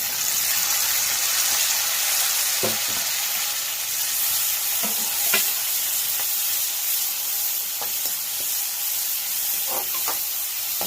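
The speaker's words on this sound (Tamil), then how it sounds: "நல்லா ஃப்ரை பண்ணிக்கோங்க" Onion, green chili and tomato fry in a pan with a steady close sizzle and hiss, broken by a few soft stirring scrapes spread through the stretch, with no talk.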